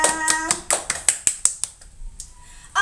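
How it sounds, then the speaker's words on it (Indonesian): Brief classroom applause for everyone: a quick run of close, crisp handclaps that thins out and stops within about two seconds, followed by near silence. "beri tepuk tangan untuk semuanya."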